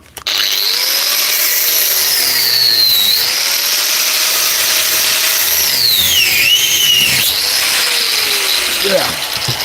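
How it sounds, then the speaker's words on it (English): An angle grinder cuts metal in a workshop, a loud continuous high whine and screech that shifts in pitch as the disc bites and eases, with a voice briefly present. "Remember to close your mouth when you're cutting with the grinder."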